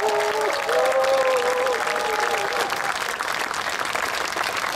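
Concert audience at a Poznań music event giving loud, steady applause that fills the hall, with a few scattered cheers and a brief voice over it near the start.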